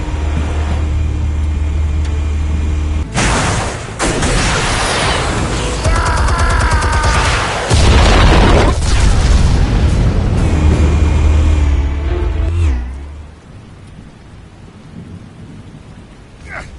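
Heavy rumbling blasts and crackling debris roll through a loud, sustained stretch in the Batman Telltale Series game, with deep low booms dominating for about twelve seconds before fading to a quieter tail.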